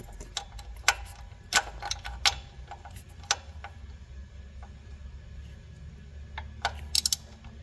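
Thermostat housing bolts being snugged on a 2011 GMC Yukon Denali: a scattered series of sharp metallic ratchet clicks and small taps, close by, irregular in rhythm over a quiet background, with no talk.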